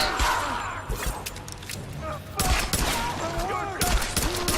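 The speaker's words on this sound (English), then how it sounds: "Yeah, so I'm shooting dudes." Gunfire in the Tomb Raider video game: rapid, punchy shots and bursts mixed with game effects and music, heard alongside a voice commenting over the action.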